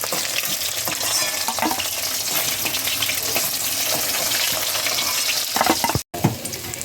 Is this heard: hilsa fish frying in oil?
yes